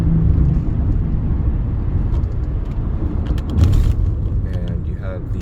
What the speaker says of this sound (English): Come into some traffic.